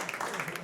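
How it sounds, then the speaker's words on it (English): Brief burst of audience applause at a live golf-themed event, scattered claps filling the room with a voice talking over them. "Yeah, round of applause."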